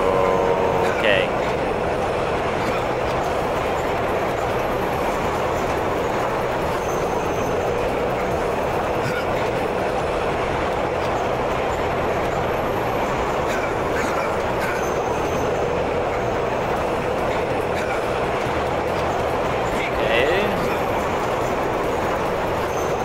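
In the video game Duke Nukem: Manhattan Project, a long train passes by in the Metro Madness level, a loud, continuous rumbling roar of wheels and carriages that holds steady for the whole stretch.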